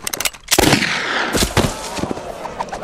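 Rapid gunshots crack at a shooting gallery in a movie, a dense burst of sharp reports with echoing tails, loud and close, with no talk over them.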